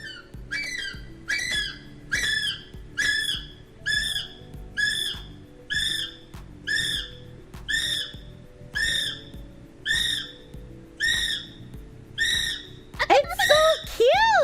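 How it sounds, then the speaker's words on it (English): Kiwi bird calls recorded at a zoo, a series of about a dozen shrill rising whistles repeated at a steady pace, loud and clear over a faint background hum. "bird call recorded at the Pangton Zoo."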